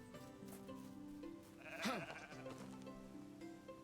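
Baby sheep bleat once, clearly and close, over a soft background music bed in Medieval Dynasty.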